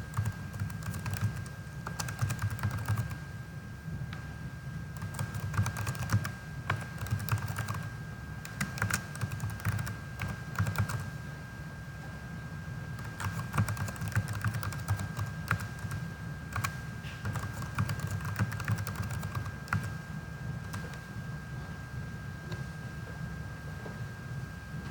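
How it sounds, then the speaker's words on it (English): Steady, continuous typing on a computer keyboard while entering name, email and password during Outlook setup on Windows, a dense run of close clicky keystrokes over a low background hum with no talking. "you'll go ahead and type your name,"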